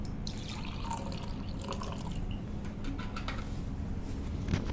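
Water being poured as part of a liquid demonstration, a steady trickling, dripping pour running continuously, close and moderately loud.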